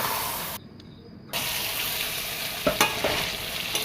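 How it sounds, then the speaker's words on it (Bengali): Chicken kosha cooks in a pan over a medium flame, giving a steady sizzling hiss with a brief dropout and a few spoon scrapes and knocks near the end. "এখন আমি চিকেন কষাটা মিডিয়াম ফ্লেমে করছি।"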